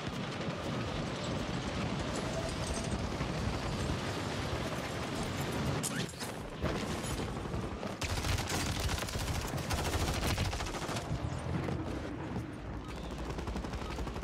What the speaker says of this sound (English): That was my launcher.